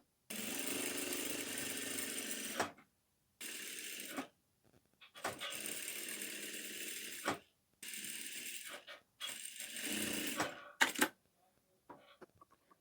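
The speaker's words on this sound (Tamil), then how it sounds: "லைனிங் மெட்டீரியலையும் ப்ளவுஸ் மெட்டீரியலும் வச்சு அப்படியே நாலு சைடுக்குமே நீங்கள் தையல் போட்டுக்குங்க" A sewing machine stitches blouse and lining material together, running close in about half a dozen bursts of whirring stitching separated by short silent pauses.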